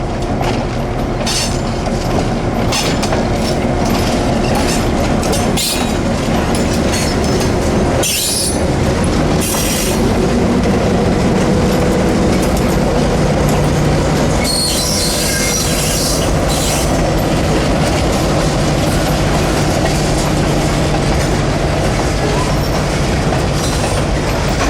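CF7 diesel locomotive rolling through citrus groves on the Florida Midland Railroad, loud and close, with continuous rumbling engine, clattering wagons and occasional high wheel squeals throughout.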